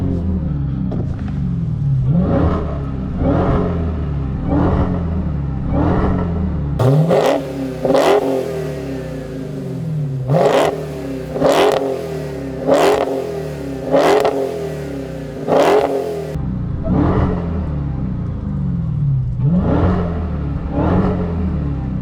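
A 2023 Dodge Charger Hellcat with no rev limiter idles with a rumble, then its engine is blipped in a rapid series of loud, sharp revs that rise and fall before it settles back to idle.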